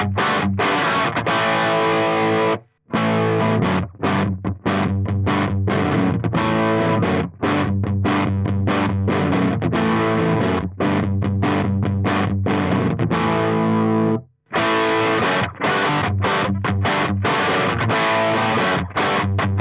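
An electric guitar played through a Marshall Plexi preset on a Fractal FM3, blending treble and normal gain channels, chugs loud distorted riffs with rhythmic palm-muted chords and two short breaks.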